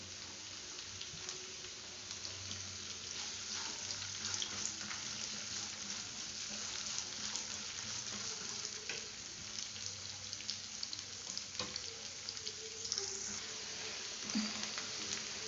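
Chopped onion fries in a pan for potato palak masala, a steady, soft sizzle running throughout with occasional stirring scrapes and small clinks, close and moderately quiet.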